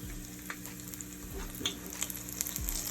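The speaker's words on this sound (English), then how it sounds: "my oil is hot and ready to go. I'm going to infuse my oil with some garlic, Scotch bonnet pepper," Garlic, Scotch bonnet pepper and onion fry in hot oil with a steady soft sizzle and crackle, a few sharper pops and light utensil scrapes close by, no voices.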